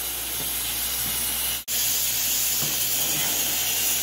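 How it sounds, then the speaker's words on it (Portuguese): Seared chicken simmering in its seasoning in a pan gives a steady, loud, close hiss and sizzle that is interrupted once by a brief cut of silence before resuming unchanged. "o franguinho já foi selado, já está aqui agora fervendo"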